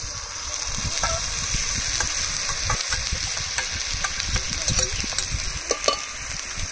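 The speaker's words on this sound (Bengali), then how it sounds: "এবার মশলাগুলো ভালোভাবে কষিয়ে নেব।" Spices fry in a pan for a Bengali stuffed pointed gourd dish, with garlic paste, coconut milk and turmeric. The sizzle is loud and steady while a spatula scrapes and stirs in frequent short strokes.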